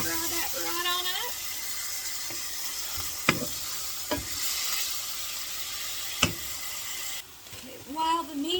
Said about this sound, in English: I'm going to do a little bit of Memphis-style barbecue seasoning in here. And we're just going to fry that right on up.